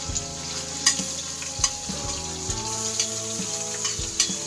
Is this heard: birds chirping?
no